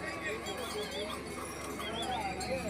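Horses on a snowy Kedarnath mountain trail are heard close by, with hoof clatter and a whinny under constant nearby talk.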